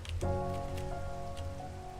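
Rain falls in a Minecraft hardcore world as a soft, steady hiss with a few faint drip sounds, heard quietly under sustained in-game tones.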